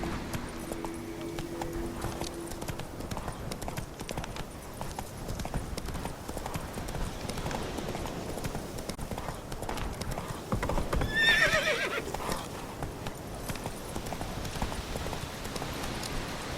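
Roach the horse gallops in The Witcher 3, with a continuous run of quick hoofbeats close by and a brief neigh partway through.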